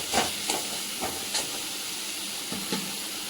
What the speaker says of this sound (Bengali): আমি মশলাটা কষাচ্ছি